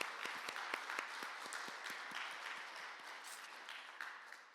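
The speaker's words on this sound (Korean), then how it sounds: "하나님께 이 시간 영광의 박수 올려드리도록" A church congregation applauds during a Sunday worship service in New Jersey, a steady burst of many hands clapping that starts sharp and dense, then slowly thins and fades over several seconds.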